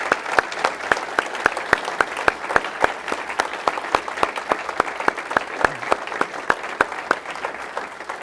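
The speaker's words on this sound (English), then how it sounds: "let's show them our appreciation with a round of applause" A crowd claps in rhythmic unison at an evening discussion event, evenly spaced sharp claps repeating steadily throughout.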